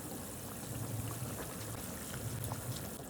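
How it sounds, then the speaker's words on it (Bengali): Bengali egg curry broth boiling in a pot, a quiet continuous bubbling and simmer with soft liquid pops throughout, no voices. "দেখো ঝোলটার মধ্যে কি সুন্দর বলক চলে এসছে"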